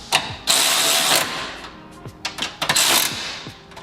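A ratchet snugs down the radiator mounting bolts on a Subaru WRX during a radiator upgrade, giving close, crisp clicking bursts and metallic rattles in short, uneven spurts.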